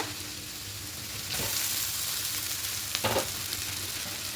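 Steady sizzling of egg chow mein noodles with carrots stir-frying in a hot pan, with a louder hiss and scraping stirs partway through, close and continuous.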